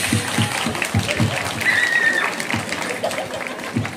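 Concert crowd applauds at an outdoor-sounding live show, scattered claps with some louder individual hits and background chatter.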